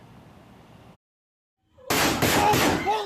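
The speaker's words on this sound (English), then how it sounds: "This cell phone video captured the gunfire and the screams of the high school students trapped inside their classrooms." Cell phone recording from inside a high school during a mass shooting: muffled noise, a sudden silence, then loud harsh bursts of gunfire with screaming voices mixed in, close and distorted.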